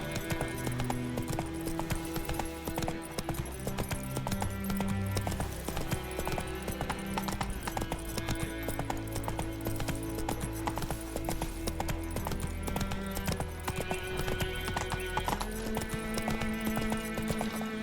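Horse hooves clip-clop at a steady trotting rhythm in The Witcher 3 video game, loud and continuous, layered over game music and ambient sound, with an occasional whinny.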